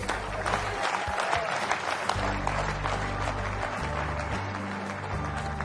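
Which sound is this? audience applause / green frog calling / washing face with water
audience applause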